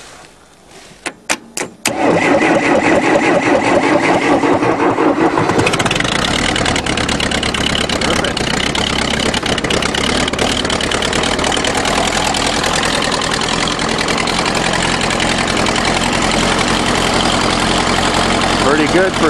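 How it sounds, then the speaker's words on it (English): A 1974 two-liter Case diesel tractor is cold-started by jumping the starter: a few cranking bursts catch into a loud, rough, knocking idle that runs steadily to the end. "And I'll jump the starter since the starter button never seems to work in the cold."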